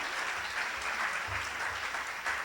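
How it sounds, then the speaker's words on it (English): Loud, dense applause from a large crowd fills the whole moment without a break. "a round of applause for Tom, Agam, and Chani."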